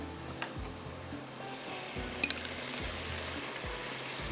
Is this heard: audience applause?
no